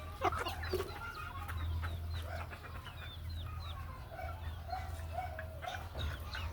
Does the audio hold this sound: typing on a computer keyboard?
no